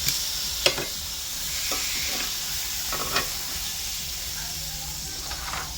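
Beef rump steak with a dry rub frying in plenty of oil on a barbecue over a small side fire hisses in a steady, moderate sizzle, broken by a few sharp crackles and spits.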